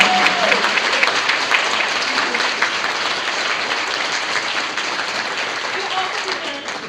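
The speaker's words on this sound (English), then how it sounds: "Please clap." Audience clapping loudly after a dance demonstration, a thick continuous wash of hands with some crowd noise mixed in, gradually easing off over several seconds.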